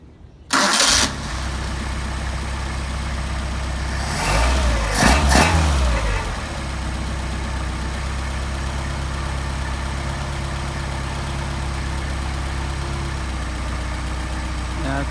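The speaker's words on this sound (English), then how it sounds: "Now we're going to do a hot start, hot restart" A Mercedes 190SL engine with Solex carburetors is hot-restarted, its starter turning briefly before the engine catches with a short rev, then it settles into a steady, even idle close by that continues to the end.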